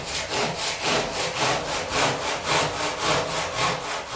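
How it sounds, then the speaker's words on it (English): A handsaw cuts a compound mitre through coving, with steady back-and-forth strokes in an even rhythm of about two per second, close and clear with no talking. "the best way to do it is to put um, a compound mitre cut. I'm going to cut it this way"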